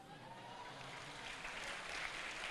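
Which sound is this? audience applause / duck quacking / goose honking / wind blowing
audience applause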